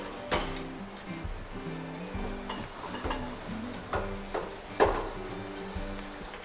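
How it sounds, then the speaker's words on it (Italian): Escarole wilting in a frying pan with garlic and raisins, giving a steady sizzle and frying crackle with occasional stirring knocks and scrapes, fairly close and with no talk. "qui ci ho messo l'aglio e l'uvetta, adesso ci sto mettendo la scarola, la facciamo appassire un po'"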